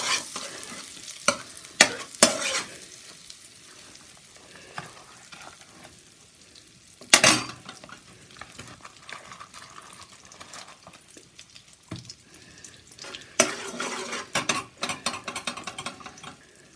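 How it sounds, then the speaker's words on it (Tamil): Butter sizzling in a kadai while being stirred, a soft continuous fry punctuated by several sharp scraping and clattering spoon strokes against the pan, close and intermittent. "சூப்பு கடாய் வச்சு நான் பட்டர் போடுறேங்க"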